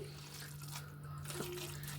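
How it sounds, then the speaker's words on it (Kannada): Water is poured onto cooked leftover rice to soak it overnight for fermented rice porridge, a faint, steady trickle and splash in a quiet kitchen. "ಅದನ್ನು ಈ ರೀತಿ ಒಂದು ಸ್ವಲ್ಪ ನೀರು ಹಾಕಿ"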